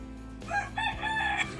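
A rooster crows once, a loud rising and wavering call close by, over a low steady hum.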